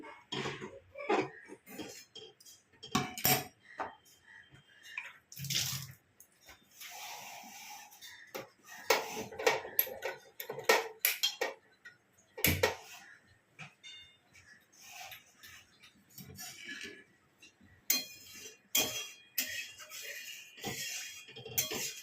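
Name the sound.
washing a kadai (wok) and pots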